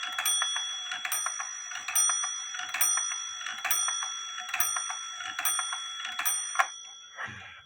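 A WUBA Dutch clock with a faulty movement chimes repeatedly, ringing bell strikes in an even rhythm roughly twice a second, close and clear, ending with a few softer mechanical clicks.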